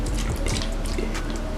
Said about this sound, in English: I'm gonna spray my face with some